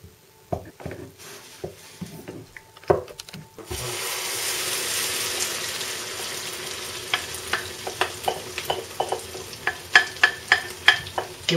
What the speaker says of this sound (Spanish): Ahora lo que hacemos es mezclar el huevo con la patata y la cebolla, bien mezclado